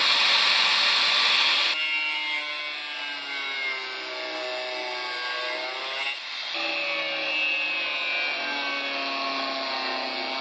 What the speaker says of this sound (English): using the grinder to get rid of those really rusty bolts and nuts